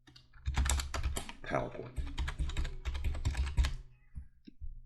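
Rapid clicking keystrokes on a computer keyboard, close and irregular bursts of typing in a PowerPoint title box, while a person briefly speaks over it.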